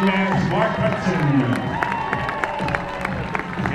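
A crowd at a half marathon finish cheers and claps for the race winner, a dense continuous wash of applause and shouts with an announcer's amplified voice over it.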